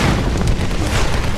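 Gunfire in the Tomb Raider video game comes as a dense, loud, continuous wall of booming, explosive noise filling the whole short moment with no clear gaps.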